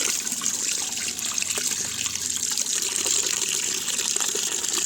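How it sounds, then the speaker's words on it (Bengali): Eggshells are rinsed under plenty of running water, making a close, continuous gushing splash that holds steady throughout the short stretch. "ঠিক এইভাবে আমি ভালো করে ধুয়ে নিলাম ডিমের খোসাগুলো অনেকটা জল দিয়ে"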